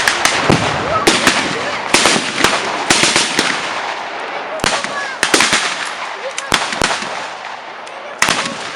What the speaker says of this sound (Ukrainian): намагалися відстрілюватися від наступу воїків УПА, які ведуть гарматний та стрілецький вогонь